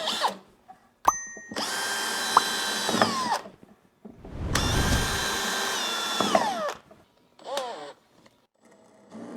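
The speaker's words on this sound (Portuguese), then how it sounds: "eu já vou fazer aqui alguns furos para depois fixar na peça" A power drill bores holes into a wooden guide for a table saw in two long whining bursts with pitch changes as the bit works through, plus a few short trigger blips near the end.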